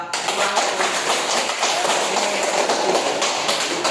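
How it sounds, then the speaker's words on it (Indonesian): Children applauding in a primary school classroom, a dense, steady burst of many hands clapping at once, loud and close, filling the whole moment. "beri aplaus untuk adik-adik semua"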